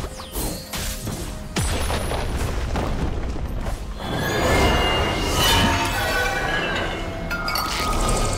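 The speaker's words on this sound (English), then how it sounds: "Blue team's turret has been destroyed." A turret collapsing in League of Legends, a loud crashing boom with whooshing debris and mechanical clatter that swells midway and lingers under busy game effects.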